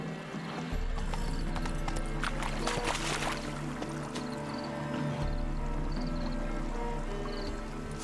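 Steady, close hoofbeats as Roach the horse gallops in The Witcher 3: Hearts of Stone, with a brief neigh partway through over low game ambience and music.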